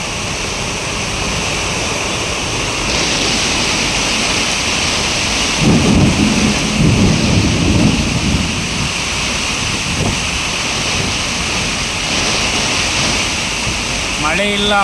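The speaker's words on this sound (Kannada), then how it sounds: "ಭಯಂಕರ ಮಳೆ" Heavy rain pours in a steady, dense hiss while thunder rumbles low and long through the middle, loud and continuous throughout, at Bettelasuru Cross.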